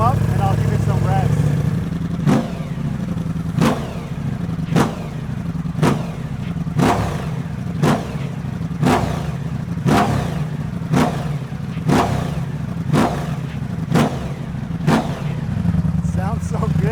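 A cold Ducati Diavel V4 with a Termignoni Dragster exhaust idles loudly while warming up, its steady rumble punctuated by sharp, evenly spaced pops roughly every second.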